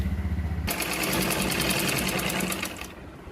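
Sewing machine stitching the lining and neckline of a blouse, a steady rapid needle rhythm starting after a brief low hum and running continuously for about two seconds before stopping, close and loud.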